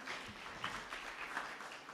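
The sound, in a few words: audience clapping for a speaker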